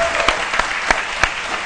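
Studio audience of a French-language TV midday show clapping, steady close applause punctuated by a few sharper slaps, with faint crowd murmur underneath.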